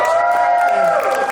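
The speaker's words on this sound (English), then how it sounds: "Another round of applause." Comedy club crowd applauding again, a full steady patter of clapping layered with cheers and a few whoops, loud and continuous across the moment.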